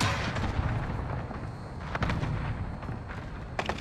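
Rapid gunfire from the video game Warzone, dense overlapping shots and bursts cracking steadily throughout, with sharper loud volleys near the middle and end.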